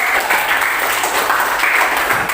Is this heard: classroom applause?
yes